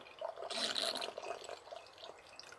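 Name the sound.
wine pouring and bubbling in a bottle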